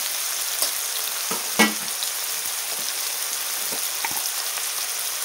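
Tomato with turmeric fries on low heat in a pan for a village-style masala curry, giving a steady close sizzle with scattered light ticks and one sharper clink, without speech.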